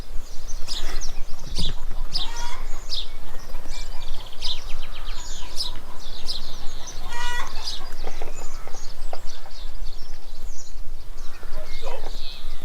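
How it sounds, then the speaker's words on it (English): Chickens clucking and squawking nearby in the Devon countryside, repeated sharp calls from several birds over a steady outdoor background, with people talking in between. "Chickens."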